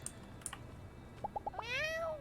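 A cat meows in the video game Sandrock, a single drawn-out, falling meow after a few short clicks and chirps, heard close and clear with no talking.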